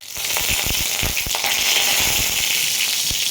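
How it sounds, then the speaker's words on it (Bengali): Potatoes sizzle steadily in hot oil for a Bengali mixed vegetable curry, with a loud, continuous close-up hiss broken by sharp crackles and pops throughout. "গরম করে তাতে আলু ছেড়ে দিলাম।"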